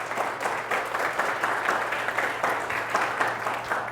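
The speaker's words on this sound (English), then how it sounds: "Let's clap it up for Derek again, too." A conference audience applauds steadily for several seconds, a dense, even wash of clapping heard from within the room.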